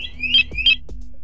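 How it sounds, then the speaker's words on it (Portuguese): A motorcycle alarm gives two quick high-pitched electronic confirmation beeps, one after the other, with faint clicks in between. "aguarde a confirmação ao final com dois bips e o cessar do disparo do alarme"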